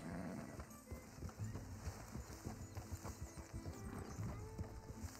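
Rhythmic horse hooves clip-clopping steadily over a busy Red Dead Redemption II soundtrack, with a brief whinny-like sound mixed in.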